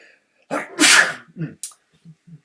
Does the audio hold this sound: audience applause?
no